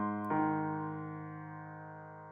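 Virtual piano notes from the opening of a Kingdom Hearts piece: a soft held tone, then a single clear struck note that rings out and slowly decays, heard alone.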